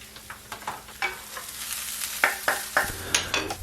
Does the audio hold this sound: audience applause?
no